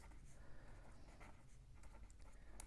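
Pen or marker scratching steadily across paper or a board as a sample space is written out by hand, a continuous close scraping texture with short strokes and brief lifts, no voices.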